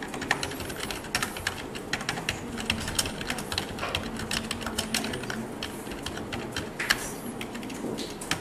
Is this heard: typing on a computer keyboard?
yes